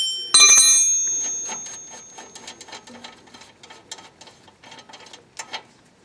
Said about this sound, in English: I'm going to interlock another wrench to give me some torque